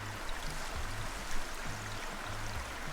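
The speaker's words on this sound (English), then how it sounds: "Block water flowing out of the fruit tree area" Water flows steadily in a god-sim video game, a constant rushing, stream-like wash that stays even and fills the whole clip without pauses.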